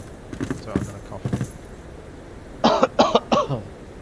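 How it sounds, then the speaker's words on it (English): Three sharp, loud coughs in quick succession near the end, preceded by a stretch of quieter voice-like sounds and background noise. "So I'm gonna cough."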